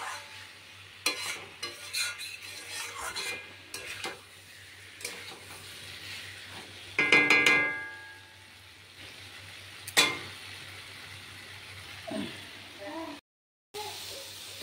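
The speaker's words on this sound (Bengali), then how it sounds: "তো রান্না হয়ে গেল শাক ভাজা" Leafy greens (shak bhaja) fry in a pan with a soft, quiet sizzle broken by sharp scraping and stirring clatters, a few louder spatula knocks, and brief faint speech.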